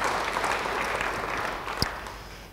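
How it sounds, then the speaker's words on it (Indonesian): A church congregation applauds in a steady, dense wash of clapping at moderate level, with one sharper clap standing out near the end as the sound holds without speech. "Yang percaya beri tepuk tangan bagi dia."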